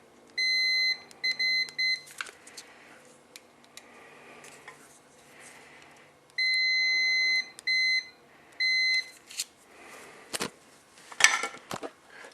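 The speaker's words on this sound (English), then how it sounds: "you would test this side against the other side of the hole, and see if it beeps" A continuity tester on a Hedstrom Probe VI toy circuit board gives short high electronic beeps in several separate bursts, some single and some repeated, with faint clicks and handling noise between them.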